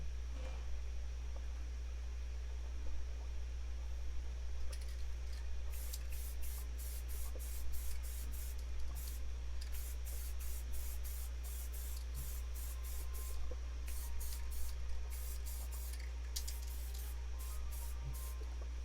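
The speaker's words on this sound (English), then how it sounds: "I don't need any more wasted spray paint" Aerosol spray paint can hissing in repeated short bursts while coating a miniature model, the spurts close and steady in rhythm over a constant low background hum.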